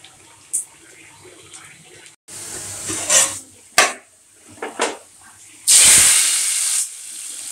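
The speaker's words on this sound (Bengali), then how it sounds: "এখন পেঁয়াজ ভেজে নিব।" Onions fry in hot soybean oil for haleem, with short bursts of sizzling hiss and some pan clatter. A loud, sustained sizzle rises near the end.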